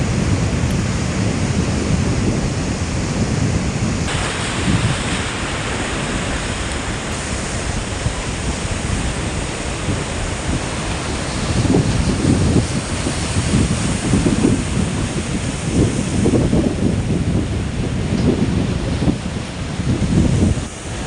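Huge waves crash and surge on a stormy open sea, a loud, unbroken roaring wash that swells in repeated heavy pulses, with no voices.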